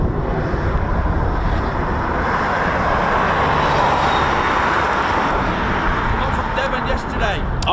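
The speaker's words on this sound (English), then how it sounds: "There we go, our first wave of departures." Eurofighter Typhoon FGR4 jets departing RAF Coningsby as a first wave, a loud continuous roar holding steady for several seconds, with voices talking nearby.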